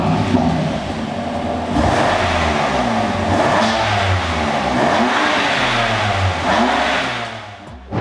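A BMW M3 CS engine revved several times close by, loud rising and falling blips in a steady drone that fade out near the end.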